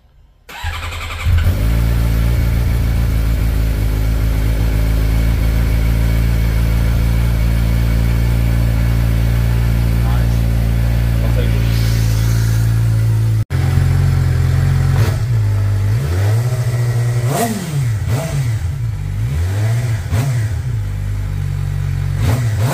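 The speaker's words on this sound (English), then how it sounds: "we got the stock exhaust for the 23 GSXR 600 before we put the pipe on it. So let's see what she sounds like." A 2023 Suzuki GSX-R600 motorcycle on its stock exhaust fires up and settles into a steady idle, then after a brief cut gets blipped through several sharp revs that rise and fall close to the microphone.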